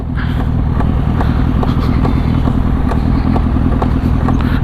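A Kawasaki Z800 motorcycle runs with a loud rumbling engine and an even, repeating tak-tak knock ticking through it, close and continuous.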